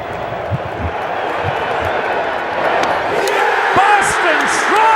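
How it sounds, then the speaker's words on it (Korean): Thousands of home fans at a baseball stadium roar and cheer as the Boston Red Sox clinch the World Series with a final strikeout, a dense, swelling crowd noise that grows louder toward the end, with whistles and shouts. "마지막 삼진에 환호가 터져나옵니다."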